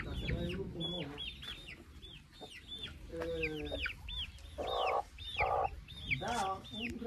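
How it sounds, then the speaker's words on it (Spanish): Hens cluck and squawk repeatedly at close range in quick, uneven bursts, with a few high calls mixed in and some faint background murmur. "Miren qué hermosa esa gallina."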